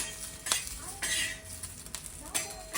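Chutney ingredients frying in a pan while being stirred, bursts of sizzling with spoon scrapes and clinks against the metal, close up, in short uneven pulses.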